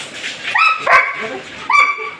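A tall adult male dog at a breeding kennel gives two sharp, close barks with a yelping, whiny edge, separated by a short pause, while someone talks faintly nearby.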